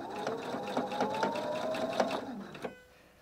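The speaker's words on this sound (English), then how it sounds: "And as I sew, it will feed the fabric through." A sewing machine stitches bias binding onto fabric in a rapid mechanical whir with a rising motor whine, running close and loud for about two and a half seconds before it stops.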